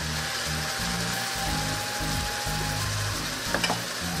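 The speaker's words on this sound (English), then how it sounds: "we're gonna cook the meat, make sure fully cooked" Ground meat cooks in a pan for shepherd's pie, with a continuous, close sizzle, occasional stirring scrapes and a brief clatter near the end.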